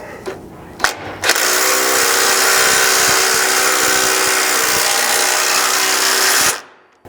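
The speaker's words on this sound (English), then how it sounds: "you'll install your thread cutting bolt by passing it between the mount and the washer and threading it into the frame." A power tool drives a thread-cutting bolt into a Chevy Colorado frame while a rock slider is installed: a loud, continuous whirring grind runs for about five seconds after a few clunks, then stops abruptly.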